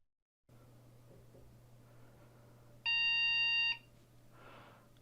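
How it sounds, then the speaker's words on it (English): An Asustor FS6706T six-bay NVMe SSD NAS gives a single steady, piercing electronic beep lasting under a second while booting up, loud and close over a low constant fan and electrical hum. "You hear that annoying beep."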